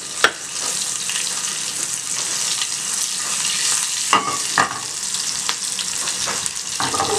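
Cloves and bay leaves fry in hot oil for a masoor dal and spinach dish, giving a steady, close sizzle with a few sharp clinks and stirring scrapes scattered through.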